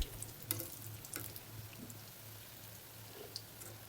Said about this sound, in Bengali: প্রথমে তো পেঁয়াজটা ভেজে নিচ্ছি।